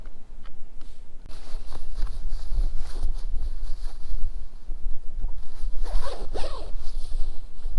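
A zipper pulled on a heavy jacket outdoors on open water while fishing, a close rasping zip with a few tugs, set against loud gusting wind buffeting the microphone.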